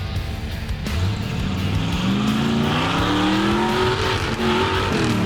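Off-road crawler vehicle at the Great American Crawl, Windrock, driven fast through rain and mud with high wheel speed; a loud, continuous engine roar climbs steadily in pitch as it revs and accelerates, close and alone without talk.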